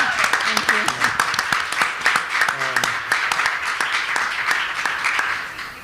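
Meeting audience at an Oak Park community gathering gives a steady round of applause, many hands clapping in a dense, even patter at moderate distance, with a voice speaking briefly near the start.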